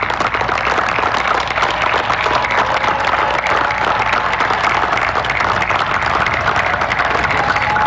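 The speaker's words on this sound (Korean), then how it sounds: "부모님들께 박수 쳐주세요 하고 박수치게 했습니다" Loud sustained applause from a large group of cadets clapping together, dense and continuous for several seconds with a faint crowd murmur underneath.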